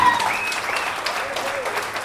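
A seminar audience at a Hindi-language business event applauds steadily to welcome guests, with a voice speaking over the clapping.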